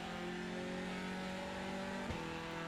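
A 2-litre, 350-horsepower race car engine in iRacing drones at steady high revs, loud and continuous with a brief blip near the end, no talk over it.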